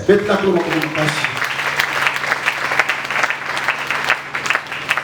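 A church congregation at a worship service breaks into steady, sustained applause, with a voice speaking over the clapping at the start.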